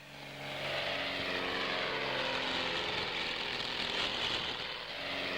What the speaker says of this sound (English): The Beagle Mark II air truck.